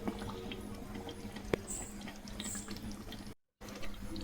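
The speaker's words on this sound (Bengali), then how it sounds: "এই তো বলক চলে এসেছে" Chicken roast gravy comes to a boil in a pot, giving a continuous wet bubbling and burbling close by with no voices. A brief dropout to silence occurs late in the clip.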